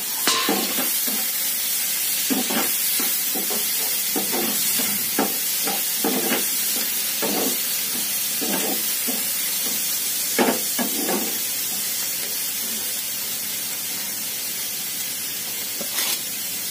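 Onion and tomato sizzle in a pan while Maggi noodles are being made, giving a steady close hiss of frying broken by repeated scraping stir strokes, with no talking.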